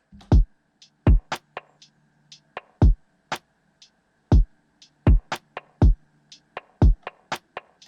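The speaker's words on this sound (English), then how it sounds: "This is the drum loop." A crisp lofi drum loop with punchy kicks, snappy snares and light ticking hi-hats in a steady, laid-back groove, played alone.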